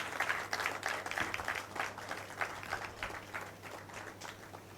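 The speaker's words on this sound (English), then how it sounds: "he deserves another round of applause" Audience applause for the Right Honorable Speaker at a school service, a steady wash of clapping from many hands that swells and then thins slightly over several seconds.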